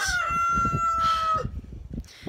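Roosters crowing in a backyard flock: one crows loudly and close by, a long drawn-out call, followed by a second crow starting near the end over a busy background.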